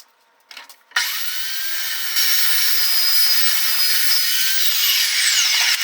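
A saw cuts through metal stock held snug against the fence while building a welded grinder storage rack. It starts abruptly and runs as a loud, steady, high-pitched screech for about five seconds.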